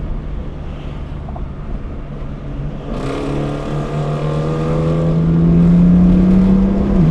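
A Dodge R/T muscle car engine drones at a steady low pitch, then swells louder and rises as it revs and approaches, with wind buffeting the microphone.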